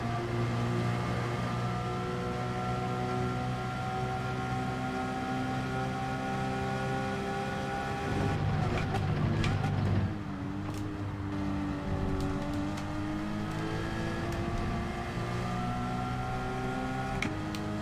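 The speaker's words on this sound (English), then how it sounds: "It's like the perfect braking reference when the Porsche hits the rev limiter in 5th gear" Porsche race car engine in Gran Turismo 7, a Group 4 race at Catalunya, droning steadily at high revs in 5th gear, bouncing off the rev limiter before a brief dip and climb again, continuous and alone.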